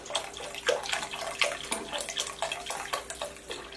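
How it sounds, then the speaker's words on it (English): Remaining broth poured into a pot of browned beef and its juices, a splashy liquid pour with bursts of gurgling and spattering, moderately loud and close, heard alone with no talk. "we're going to add the remainder of the broth"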